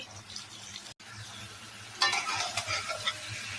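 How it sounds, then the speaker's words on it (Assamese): Fried potatoes and tomato tip into a hot pan and a bright sizzle swells up midway, crackling steadily through the rest. "এতিয়া দিওঁ ফ্ৰাই কৰি থোৱা আলু ইয়াত এতিয়া দিওঁ বিলাহী"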